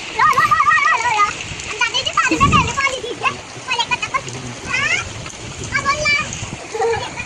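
Water from a pipe splashes on a rooftop during rain, with a loud, close burst of splashing and softer spatters under near-continuous girls' and children's voices talking and laughing.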